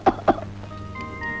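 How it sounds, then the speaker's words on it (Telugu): Two sharp, close coughs in quick succession, from a Telugu film scene, followed by a quiet tonal background hum. "ఏమిటి మళ్ళీ దగ్గుట"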